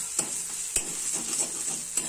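Spiced samosa filling with ground cumin and garam masala sizzles steadily in a pan, with a few sharp scrapes of stirring at irregular intervals, close and fairly quiet.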